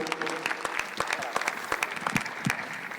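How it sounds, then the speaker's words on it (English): Crowd applause at a UFC London fan Q&A event rolls on steadily from a large audience, with dense, moderately distant clapping and a few voices mixed in. "let's have a round of applause."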